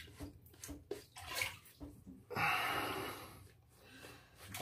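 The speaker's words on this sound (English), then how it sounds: "As I'm putting water there, the lather is not breaking down" Water is added to shaving soap lather, giving a soft, close splashing and trickling that swells in the middle, quiet overall and mixed with faint breathing, with no speech.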